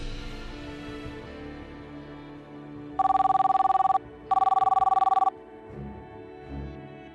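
A telephone rings in two long electronic trilling bursts separated by a short gap, loud and close, with quiet room sound and faint movement before and after.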